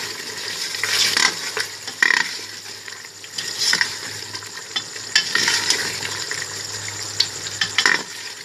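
Beef frying in a pan with ground garam masala and large red chilies, a steady sizzle broken by repeated scraping stirs and light clinks of a spoon against the pot, close and fairly loud, with no voices.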